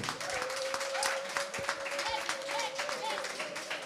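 An audience applauds at a press conference ahead of a concert in Lyon. The clapping is dense and steady throughout, with a held sung or hummed tone running underneath.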